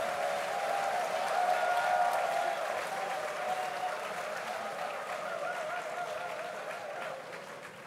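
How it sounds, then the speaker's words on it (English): Audience applause at a university special congregation ceremony, a sustained, evenly dense roar of clapping from a large crowd that gradually thins toward the end, with a faint tonal hum beneath. "I believe it's in order to call for a loud round of applause"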